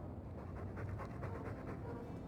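A Mabari war dog in the Dragon Age 2 video game pants steadily in quick, even breaths, soft and continuous against a dense background.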